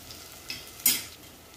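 Chopped small shallots tipped into a frying pan for a Tamil vada curry and stirred, giving a brief clatter and a short burst of sizzling, close and fairly quiet, with no talking.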